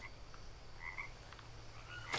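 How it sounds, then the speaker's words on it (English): A frog croaks a few times in the jungle survival video game Green Hell, short chirping calls spaced apart over a quiet, steady ambient hiss, faint and alone. "Oh, hello, you're a frog."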